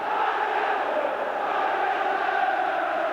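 A dense football crowd at a Manchester United v Leeds United League Cup semi-final roars in a steady, sustained wash of massed voices, broad and far-reaching with no single voice standing out.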